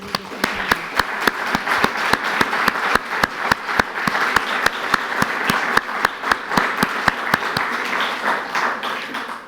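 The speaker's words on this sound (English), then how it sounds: "I think they deserve a round of applause" Sustained applause from an audience at a sister-city twinning ceremony between Bordentown, USA and Mortefontaine, held in a chateau, honoring the mayors; dense clapping with sharp individual claps standing out throughout.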